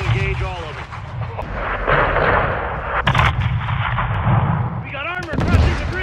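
Heavy gunfire and booming artillery from the Call of Duty: Modern Warfare II (2022) campaign, loud and dense throughout, with voices talking over the battle.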